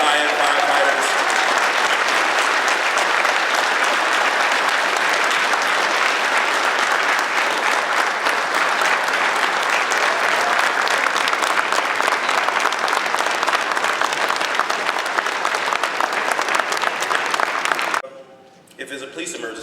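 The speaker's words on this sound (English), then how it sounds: "I want you to give a round of applause to all those firefighters in the rear" Sustained, loud applause fills a fire academy graduation hall as an audience honors retired Trenton firefighters, dense and steady for many seconds before cutting off abruptly near the end.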